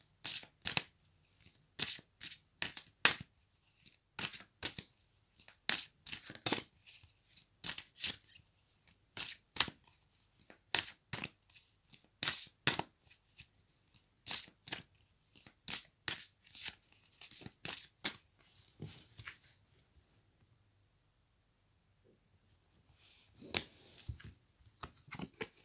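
Tarot-style cards are shuffled and drawn in a quiet room, a long run of crisp riffling bursts and slaps repeating steadily for about twenty seconds, then a short pause before a few more card flicks near the end.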